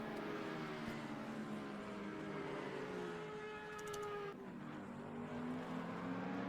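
Race cars in the ACC racing video game lap at night in a dense pack, engines droning steadily with shifting pitches, a brief tire squeal near the middle and a sharp change as one car passes.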